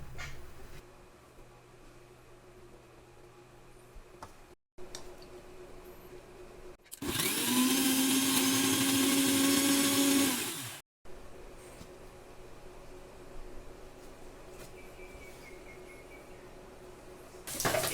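A kitchen blender grinds green chilli, shallots, mint, coriander and coconut milk into a coarse paste, a loud steady whir lasting about three seconds between quieter stretches of room noise.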